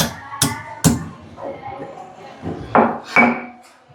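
Ginger for a spiced drink is pounded in a kitchen, giving four sharp, close thuds in two pairs with quiet gaps between them and faint talk in the background.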